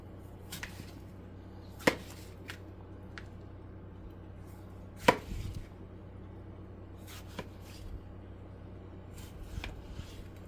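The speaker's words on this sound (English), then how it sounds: "We're going to cut these up into little cubes to go in with the meat." A knife chops vegetables into small cubes on a cutting board, giving sparse, sharp, distinct knocks spread irregularly over a quiet background, close to the mic.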